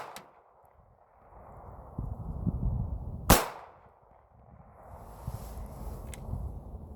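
A single sharp shot from a Hi-Point .380 pistol fired outdoors, loud and close with a short echo, amid low wind and background rumble.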